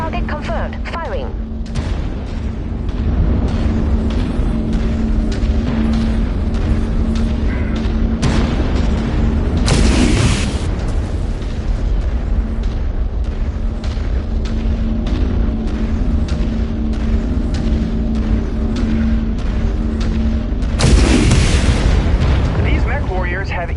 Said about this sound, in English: Last target confirmed. Firing.